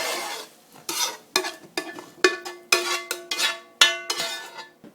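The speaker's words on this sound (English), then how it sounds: "At this point, I want to transfer it to my big Dutch oven here." A metal spoon scrapes and clanks against a pot as cooked hamburger meat is moved into a big Dutch oven. About a dozen sharp ringing knocks come in an uneven rhythm, close and fairly loud, with no talk.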